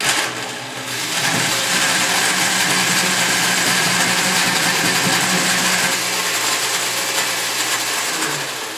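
A worn blender with a loose-fitting lid purees raw chocolate pudding, its motor running loud and steady with a grinding, rattling whir for several seconds, no voices.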